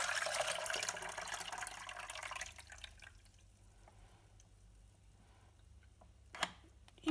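Juice streaming from the opened spout of a Hurom One Stop slow juicer into a container, with a steady liquid trickle that fades after a few seconds, then a brief drip near the end.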